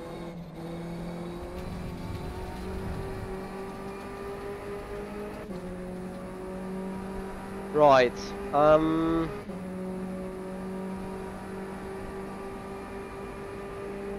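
LMP3 prototype race car lapping Silverstone in the rFactor 2 racing simulator, a steady engine drone at moderate level with a brief sharp whine of revs or gear changes midway; a voice talks briefly over it.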